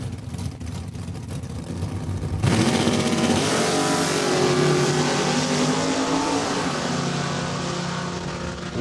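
A Chevrolet S10 drag racing truck launches hard off the starting line at Saskatchewan International Raceway, a loud engine roar bursting in after a quieter idle and sustaining a strained, rising howl as it pulls away.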